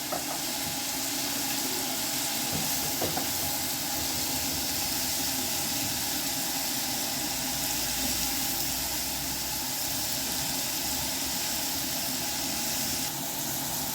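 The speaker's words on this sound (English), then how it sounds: "I'll put my spinach to fry. So now guys, I'll stir it." Spinach fries in a pan with a continuous, even hiss, steady and fairly loud throughout, with a few faint knocks of stirring.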